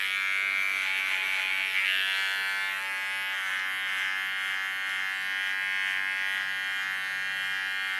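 Electric hair clipper trimming the contour line of a bob haircut, a close, continuous high buzzing hum that shifts slightly in pitch as the blade moves through the hair.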